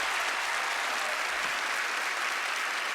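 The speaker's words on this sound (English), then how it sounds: "Give them a big round of applause." Television studio audience applauding Penn and Teller as they come on stage for a magic act on Fool Us. The clapping is dense and steady throughout, loud and close, with no voices over it.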